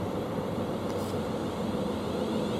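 An EasyJet Airbus A320-family jet passes near Luton Airport, heard as a steady broadband roar from a distance, even in level and fairly faint throughout.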